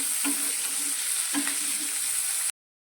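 Close, steady frying sizzle of green chillies sautéing in a pan over a low gas flame, with two brief scraping stirs, continuous hiss until it cuts off abruptly.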